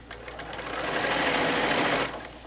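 A sewing machine runs steadily for about two seconds, stitching down French binding along a quilt edge toward the next corner; the motor hum rises, holds even and stops, close and clear with no talk.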